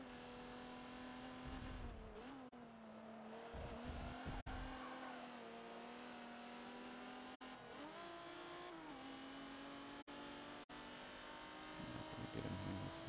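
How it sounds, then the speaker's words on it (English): Drifting car in Forza Motorsport 7 at Road Atlanta, D-Class racing, engine droning steadily with pitch swings as tires squeal through the slide, loud and continuous without talk. "Nice drift."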